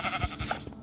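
A sheep in the Minecraft video game gives a short, nasal bleat, brief and fairly close, standing alone without talk.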